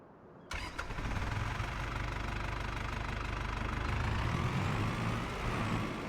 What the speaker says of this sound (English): I like the idea of this little tractor